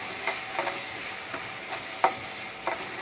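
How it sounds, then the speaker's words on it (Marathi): Ginger garlic paste and onions sizzle in hot oil for pav bhaji, a steady close frying hiss broken by periodic scraping clicks of a spoon stirring the pan. "ती कांद्यासोबत परतून घेऊया."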